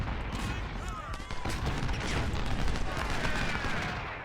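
Six-pounder cannons fire case shot in a video game, a dense, overlapping barrage of booming blasts and crackling reports that runs steadily and loud with no pause.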